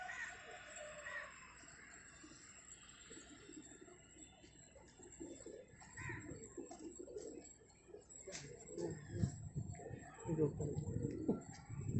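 Gola fighter pigeons released on rooftops coo softly and flutter about at a distance, faint and intermittent beneath people talking nearby.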